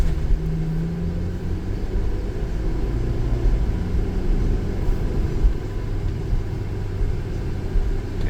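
A silver 2025 OGV van sits with its engine running, a steady low idle rumble that holds even and close throughout with no voices.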